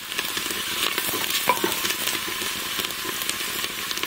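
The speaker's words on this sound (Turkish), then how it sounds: "Bu arada bir taraftan karıştırayım yanmasın." Green beans cooking with tomato in a pressure cooker are stirred, with soft scraping and a steady sizzle and bubbling underneath, close by.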